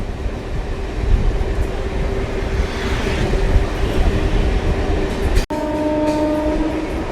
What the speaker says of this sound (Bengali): ইয়েমু ট্রেন ধীরে ধীরে সামনের দিকে এগিয়ে চলেছে দেখুন